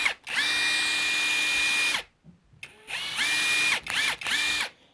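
A Bauer impact driver drives lag bolts with loud, whirring mechanical bursts: one long two-second run, a brief blip, then two shorter runs separated by quiet pauses. It sounds close, with no talking.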